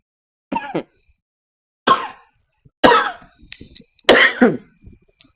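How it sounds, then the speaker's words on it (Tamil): Four separate coughs ring out close and loud, spaced about a second apart, with short silences between them and no talking. "ரொம்ப அதிகமா பேசி பேசி இருமல் வர ஆரம்பிச்சிருச்சு"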